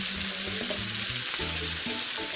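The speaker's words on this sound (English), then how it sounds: "throw in our onions and let these saute until they're clear" Onions sauté in plenty of oil in a pan, a loud, continuous sizzle with a steady crackling hiss that holds throughout, alone with no talk over it.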